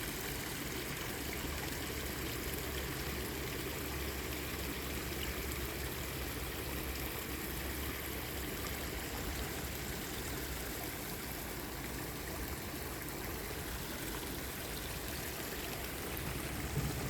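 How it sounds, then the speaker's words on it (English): A tiny waterfall in an arboretum stream, a faint, steady rush and trickle of falling water that continues unbroken from start to finish. "A tiny little waterfall."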